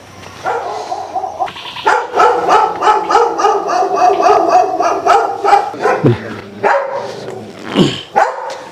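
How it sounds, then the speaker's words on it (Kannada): A dog at a village house in Heggodu, Malenadu barks loudly and close in a rapid, continuous volley, pausing briefly before a few final sharp barks. "ಓ ನಾಯಿದೆ."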